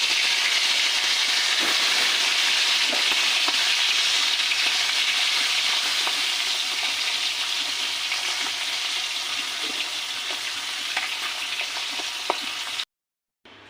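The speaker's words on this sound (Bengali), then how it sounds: "মাছগুলো আমি আমার পছন্দ মতন ভেজে নিয়েছি" Small hilsa fish frying in mustard oil in a wok, a loud continuous sizzle and crackle with scattered pops, cutting off sharply near the end.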